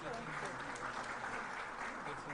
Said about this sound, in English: Please, ladies and gentlemen, another round of applause.